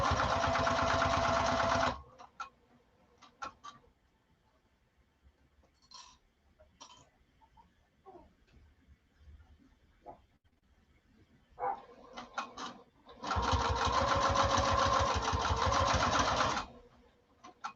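A sewing machine top stitches fabric in two long, loud, steady runs at the start and end, with quiet handling sounds and faint shifting of cloth between them.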